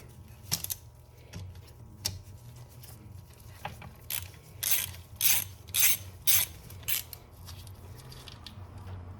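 Ratchet socket wrench clicking in quick bursts on a stuck transmission nut, several short ratcheting runs close and fairly loud over a low background hum, no talking.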